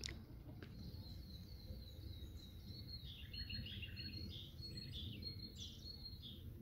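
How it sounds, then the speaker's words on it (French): Small birds chirp and twitter faintly at a distance over a low, steady outdoor rumble. "On entend les petits oiseaux."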